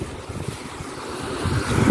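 A creek that supplies water to rice fields flows in a steady low rush, with wind buffeting the microphone and the noise building slightly toward the end.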